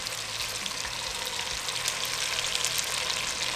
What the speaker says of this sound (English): I'm going to get my chicken in, and I might do it in batches because I want to get that beautiful brown color on there